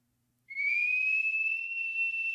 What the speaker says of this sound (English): You bring the whistle to your mouth and blow in the whistle.